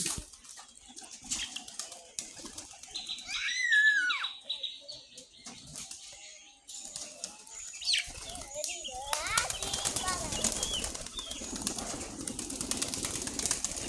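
Pigeons in a pigeon house flapping their wings in short bursts, with soft cooing, chirps and small background noises at a moderate, close distance.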